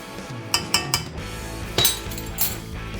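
A spoon stirring yeast and sugar into water in a glass or bowl, making a few sharp clinks and taps against the sides over a low background hum, close and with no talking.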